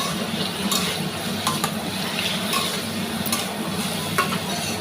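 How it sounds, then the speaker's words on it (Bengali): Potatoes fry in a pan with a steady, close sizzle, broken by scraping and clinking strokes as they are stirred, with no talk. "তো আলুটা ভেজে নিই।"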